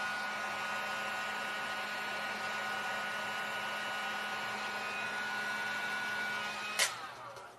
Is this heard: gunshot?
no